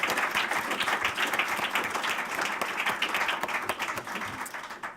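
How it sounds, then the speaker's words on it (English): An audience at the WEA Awards 2018 ceremony applauding, dense and sustained clapping from a sizable crowd, close and steady before tapering slightly at the end. "give yourselves a round of applause"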